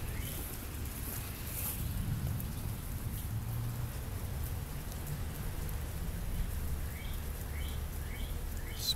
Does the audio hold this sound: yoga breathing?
no